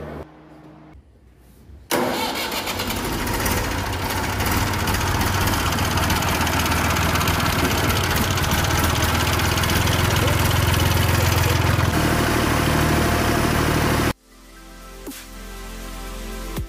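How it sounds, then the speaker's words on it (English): A newly reconditioned Massey Ferguson 240 two-wheel-drive tractor with a 45-horsepower engine starts up and idles loudly and steadily on a run test for about twelve seconds, then cuts off abruptly, leaving quieter background noise. "I will show you naman the video which I took yesterday when we run test the engine."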